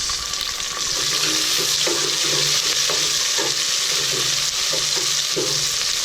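Garlic, onion and tomato sautéing in a pan for Filipino ginisang sardinas, with a loud constant hiss and sizzle throughout and repeated spatula scrapes and stirring knocks close by, no talking.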